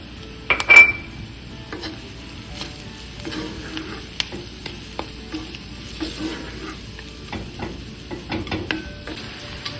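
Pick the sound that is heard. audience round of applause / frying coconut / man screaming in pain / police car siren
frying coconut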